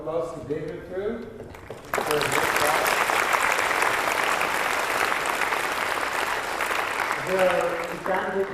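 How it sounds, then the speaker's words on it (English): An audience at a physics conference bursts into sustained, loud applause after a lecture, lasting several seconds, with a voice speaking just before and as it fades. "let's all give a big round of applause to David too"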